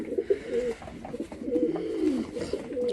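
A dark grizzle racing pigeon cock coos close by, several throaty rolling coos repeating over a few seconds with no talk.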